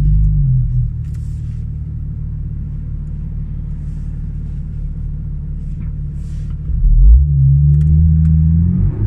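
A 2016 Porsche 911 GT3 RS engine drones low and loud from inside the car, then swells into a quick rising rev as the throttle is pressed near the end.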